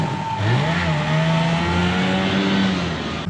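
A mini tank with a two-stroke, two-cylinder engine and twin tracks creeps along in reverse gear off-road, its engine revving steadily and close by with a rising, buzzing drone and no talk.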